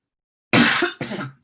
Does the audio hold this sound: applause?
no